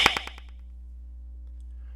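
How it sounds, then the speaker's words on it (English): Two sharp hand claps through a delay effect, each smacking back as a quick train of repeating echoes that fade out within half a second, followed by quiet. "You clap twice while saying, "shoot me,""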